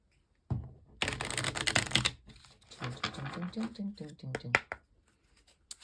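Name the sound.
shuffling tarot cards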